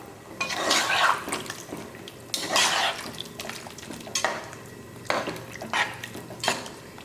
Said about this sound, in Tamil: காய் முழுகிற அளவுக்கு தண்ணி ஊற்றிக்குங்க.